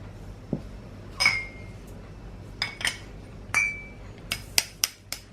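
Dry ingredients for a chocolate cake are sifted through a sieve, with a handful of sharp metallic clinks and taps from the sieve against a bowl, spaced irregularly over a quiet background.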